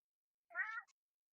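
A single pet cat lets out one short, clear meow close by in a quiet room, with nothing else around it.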